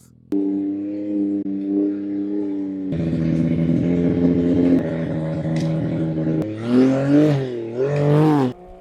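A snowmobile engine on a blown Ski-Doo revs in the backcountry, a steady droning tone that rises sharply in pitch and loudness partway through, then surges and wavers in uneven bursts toward the end.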